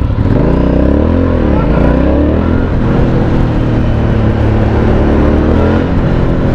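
A Triumph Street Triple motorcycle engine revs hard on a test ride, loud and close, its pitch swooping up and down with rough exhaust crackle and wind roar layered over the drone.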